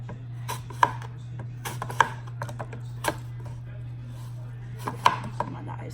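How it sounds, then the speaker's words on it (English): Knife cutting apples on a board, a series of sharp separate chops and taps spaced irregularly over a quiet steady hum, with no talk over them. "But I'm gonna cut one of these apples and put it on one of these"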